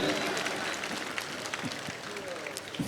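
Audience at a mushaira in Aurangabad breaks into brief clapping, a diffuse crowd patter under a host's voice speaking over it.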